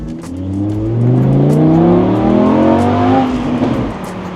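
Supercar engine revving loud and close while the car is driven, a steady powerful roar with rising and falling pitch as it accelerates, with no one speaking.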